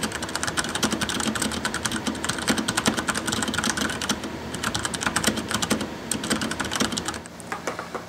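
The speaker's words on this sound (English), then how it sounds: "how the keys sound up close when you're doing some actual typing" Steady typing on a daskeyboard Model S Professional with quiet Cherry MX Red switches, close up, a dense run of soft, rapid key presses and bottom-outs that continues for several seconds before thinning out near the end.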